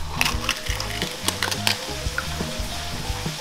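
A bacon mix sizzles in a frying pan, a steady crackle with sharp pops and utensil clicks scattered through a few seconds, with no talking.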